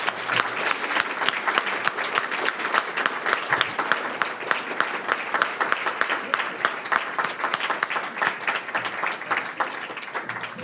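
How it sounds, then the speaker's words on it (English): A roomful of people stands to give Gillian a sustained standing ovation at a DEBRA New Zealand gathering, with dense, steady clapping that carries on for about ten seconds and a few faint voices mixed in. "please could everybody in the room stand and give Gillian a standing ovation for being so generously minded"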